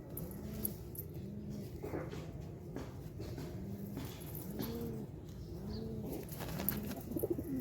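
Pairs of native pigeons coo repeatedly in soft, rounded calls close by, the rhythmic phrases overlapping across the whole stretch over a steady low background murmur, with a few brief clicks and rustles near the end.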